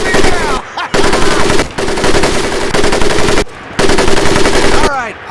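A World War II machine gun fires long, loud, close bursts in Medal of Honor: Pacific Assault, three sustained volleys split by short pauses, with whistling debris heard between them.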